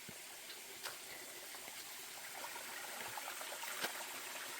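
A clear mountain stream on a foothills hiking trail gives a soft, continuous watery hiss and trickle, steady and fairly distant, with no talking.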